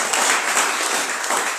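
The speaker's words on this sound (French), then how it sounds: "Applaudissons notre Dieu." A church congregation applauds during a sermon, a dense, steady wash of clapping from many hands filling the room without pause.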